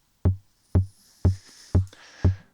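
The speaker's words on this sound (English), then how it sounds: "we can hear our bass drum" Five deep synthesized kick drum hits from an AE Modular bd55 bass drum module, evenly spaced in a steady pulse, each a punchy low thump with a quick decay and a faint high hiss between beats.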